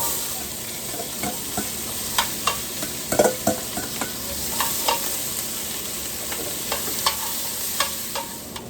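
Mirepoix vegetables sizzle in a hot pot where short rib was browned, a continuous frying hiss broken by scraping and stirring knocks, close and fairly loud, with no talk.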